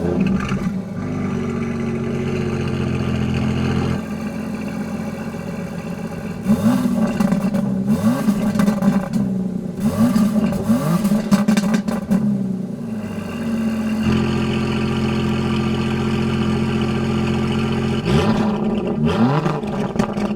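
An Aston Martin DBS Superleggera engine idles with a low rumble, then revs repeatedly in sharp bursts, roaring up and settling back between blips, close and loud.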